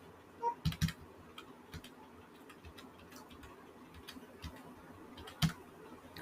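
Someone types an Aadhaar number on a computer keyboard in a quiet room: faint, scattered key clicks with a few louder taps at the start and one near the end.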